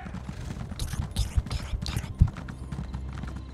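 Horse hooves clip-clopping at a steady riding pace in the video game The Elder Scrolls Online, moderately loud and rhythmic beneath someone speaking German softly.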